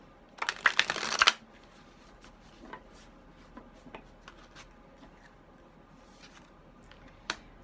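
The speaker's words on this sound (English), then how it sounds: "I shuffle until I'm guided to stop." A quick riffle shuffle of playing cards rattles up close for about a second, followed by quiet clicks and handling taps in a hushed room.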